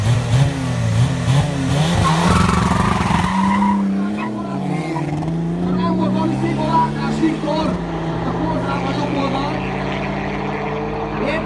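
Race cars in a Hungarian drag race, a BMW E30 with a 3.0 diesel turbo against an Opel Corsa running a 1.9 TDI Volkswagen engine, roar loudly with rising revs and tire noise while a commentator talks over them.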